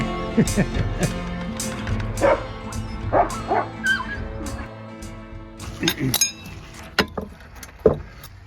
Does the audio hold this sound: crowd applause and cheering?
no